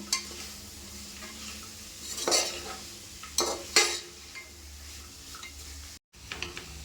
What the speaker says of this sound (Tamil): இதை நல்லா கலந்து விட்டுக்கலாம் இதுவும் கொஞ்ச நேரம் வதங்கட்டும்